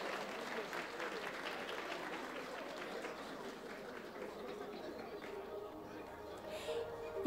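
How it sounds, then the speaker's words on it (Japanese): Applause rises from the audience at an awards ceremony for an endurance racing series, a long, fairly faint, steady wash of clapping with a hint of crowd murmur underneath. "富士スピードウェイの堀競技長、そして競技団の皆様にぜひ大きな拍手をお送りください"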